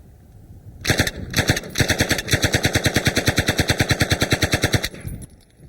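An UZI submachine gun fired from the hip with its stock collapsed: two short bursts, then one long sustained burst of rapid, evenly spaced, very loud shots, ending with a brief metallic rattle.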